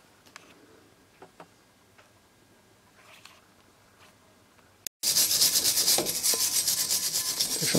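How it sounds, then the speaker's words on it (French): After several seconds of faint clicks and quiet handling, a wire brush starts scrubbing hard on the brake hub of a 2006 Audi A3, a loud, dense rasping that continues in rapid strokes to the end. "Un coup de brosse métallique tout autour."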